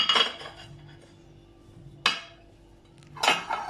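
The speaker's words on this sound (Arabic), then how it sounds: "نحطهم كده ونقلب كويس جدا اهو" Mackerel and vegetables are turned with marinade in a dish, giving three bursts of spoon scraping and clinking against the dish, close and moderately loud, separated by near-quiet pauses.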